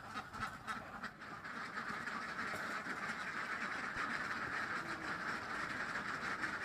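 A pen of egg-laying ducks gives a steady, dense chorus of overlapping quacks and rustling, continuous and fairly faint throughout, with no voices.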